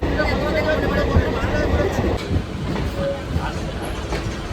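A passenger train runs on the rails with a steady, continuous rumble heard from on board, loud and unbroken, with a soft background hum.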